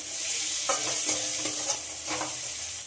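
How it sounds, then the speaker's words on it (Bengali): Turmeric powder, Kashmiri chillies and salt being stirred and sautéed in a pan for dal fry, giving a steady close sizzle with repeated scraping strokes of the spoon across the pan, and no talking. "সব কিছুকে একটু কষিয়ে নেব"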